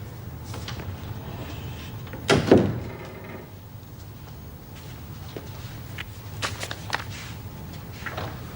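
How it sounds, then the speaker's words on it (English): A door is shut indoors in an office setting, a single sharp knock-like thud near the middle, followed by quieter shuffling and soft clicks against a low room hum. "Shut the door, please, Mrs. Powell."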